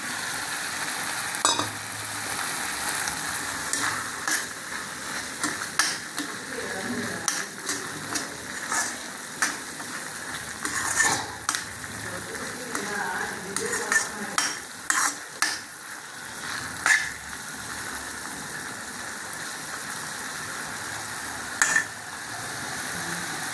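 Paneer and butter sizzling softly in a pan while a utensil stirs and scrapes, giving irregular clicks and scrapes over a faint hiss, fairly quiet and without talk.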